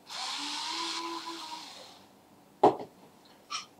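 A blender whirs steadily for about two seconds, mixing tuna with lemon juice, salt and pepper for a quick tuna mousse, then winds down, followed by a few sharp clatters of the jar or lid.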